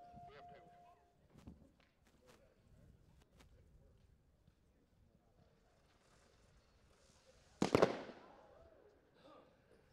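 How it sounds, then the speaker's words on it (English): A helicopter smoke firework, a small spinning gyro-jet type device on gravel ground, fires with a single loud bang after a few light knocks and outdoor noise, followed by a fizzing tail. "it's a kind of like a gyro jet that smokes with a bang"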